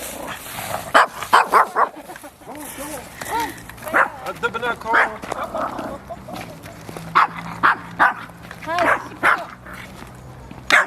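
A dog barks and yips in short repeated bursts, some whimpering in between, close by while people talk over it in Arabic and English.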